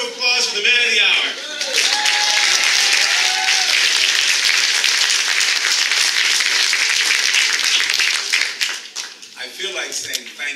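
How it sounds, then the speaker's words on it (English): Audience applause fills a portrait ceremony, a dense, loud wash of clapping that swells after brief talk at the start and holds steady for most of the span before thinning out as a voice returns near the end. "a round of applause for the man of the hour"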